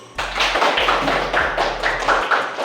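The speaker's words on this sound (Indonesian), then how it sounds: "Tepuk tangan dulu." A classroom group claps in unison during a Quran recitation lesson, producing a quick, regular run of sharp claps over a low electrical hum, with no voices over it.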